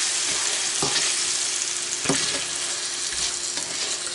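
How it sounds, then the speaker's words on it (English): Potatoes coated in a brown sugar and ketchup glaze sizzle in a pan while a spoon stirs them, with a steady frying hiss and a few sharp scrapes and knocks, close up and without speech. "so we're going to stir that in"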